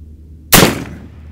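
A single Sharps rifle shot fired at targets 500 yards away: one sharp, loud crack that decays quickly into a short rumble against quiet background.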